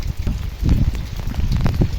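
Heavy rain pours down in a garden with chrysanthemums, a dense, crackling patter close to the microphone that keeps up without a break and has no voices over it.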